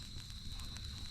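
A low campfire burns under beef ribs at a fishing camp, crackling steadily with soft pops over a continuous rumble, close and moderately quiet, with no talking.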